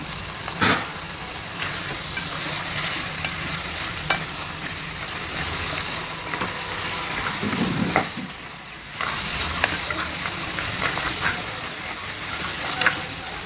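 500 grams of bone-in mutton cooking in a pan for saalan gosht, giving a continuous loud sizzle and hiss with occasional stirring clatter and a brief dip in the frying noise midway.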